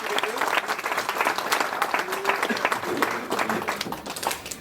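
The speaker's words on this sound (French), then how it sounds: "On peut les applaudir." Applause from a theatre audience at a Marcel Pagnol stage event, dense steady clapping that fills the whole stretch, with some voices mixed in.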